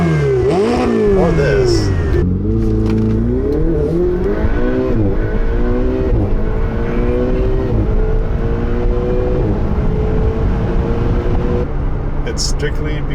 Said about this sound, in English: That is the 2016 Ferrari 488.